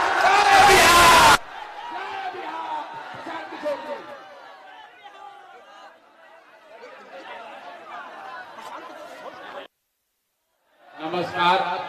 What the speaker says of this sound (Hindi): उसके लिए जोरदार ताली बजाइए और बोलिए जय बिहार, जय बिहार, जय बिहार।